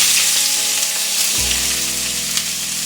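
Chilies and chopped onion frying in oil for a bitter gourd curry, with a loud close sizzle that shifts as the ingredients drop in, followed by a fuller steady crackle and no speech.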